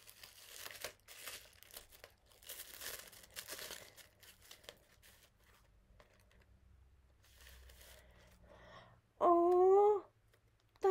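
Tissue paper crinkles and crumples in bursts as a gift is unwrapped, close and fairly quiet, with intermittent rustling and a brief tonal squeak near the end.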